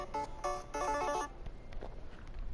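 A phone ringtone for an incoming call plays a few short melodic beeping phrases in quick succession, then stops, leaving quiet room noise.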